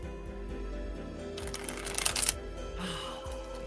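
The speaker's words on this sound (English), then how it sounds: "I'm gonna shuffle the cards" Tarot deck being shuffled by hand, a soft papery riffle and flutter of cards building to a brief burst in the middle, close and fairly quiet against a low room hum.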